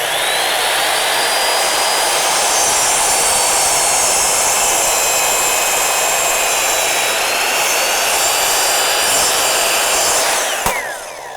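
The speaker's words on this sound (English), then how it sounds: "It makes that perfect angled cut." Power saw blade making an angled cut through wood, a loud continuous high whine held for about ten seconds before a sharp bump and spin-down.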